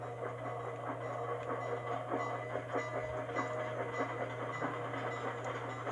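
The Iron Horse train rolls past in the video game Sly 2, a steady rumbling clatter with a constant low drone and rhythmic wheel clicks, loud and continuous with no voices.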